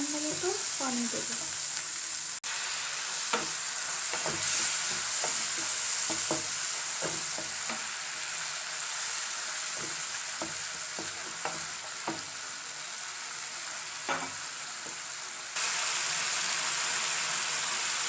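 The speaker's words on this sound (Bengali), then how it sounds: "এবারে ভালো করে আমি নাড়াচাড়া করে মশলাটাকে মিশিয়ে নেব।" A spice masala of onion, tomato, ginger-garlic paste and ground spices with a little water, being prepared for dal fry, sizzles steadily in a pan while a spoon scrapes and stirs it in irregular strokes, close by.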